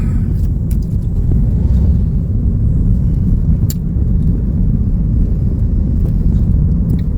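A car rumbles along a winding rural road in North Sumatra, a loud, steady low drone from inside the vehicle with faint clicks and rattles and no talk.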